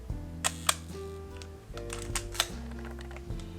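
A Leica M6 film camera's cloth shutter fires a few times at slow speeds, each a soft double click with a short gap, close up over a faint steady hum.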